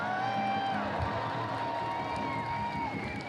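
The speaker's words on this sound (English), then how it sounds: "Can I have a cheer from you?" A crowd at a No Kings rally in Alameda cheers and whoops in a sustained, fairly loud swell that eases off slightly toward the end.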